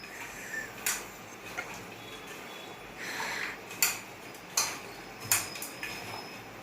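Chicken curry ingredients stirred in a pot at home, with a spoon clinking and scraping against the metal in a handful of sharp, irregular taps over a quiet background.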